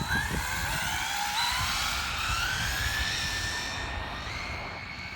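A Traxxas Slash RC car on 6 cell running a speed pass, a high whining motor pitch rising steadily as it approaches and races by, fading slightly at the end, with no voices.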